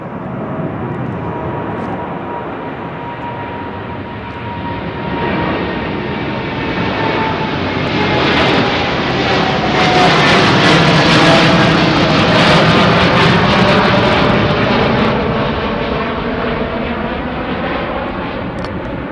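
An Etihad airliner departing Heathrow runway 09R, a loud, continuous jet roar that swells to a peak near the middle and slowly eases off, heard alone and fairly close.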